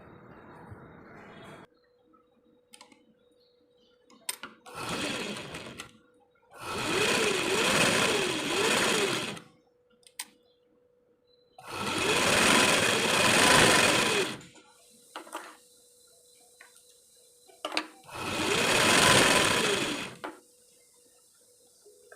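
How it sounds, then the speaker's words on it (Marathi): A sewing machine stitches a 36-size prince-cut blouse in four separate bursts of fast, whirring, rattling needle action, each lasting a few seconds, with short pauses and small handling clicks between runs. "आता मी तुम्हाला स्टिच करून दाखवते."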